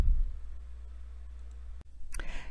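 A single sharp computer mouse click in a quiet room, near and brief, followed by a few faint clicks and rustles.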